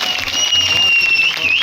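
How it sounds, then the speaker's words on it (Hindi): Applause from a crowd at a Makar Sankranti program in Sushant Vihar, a continuous wash of clapping under a loud ringing microphone whine and talk over the PA. "एक बार जोरदार ताली"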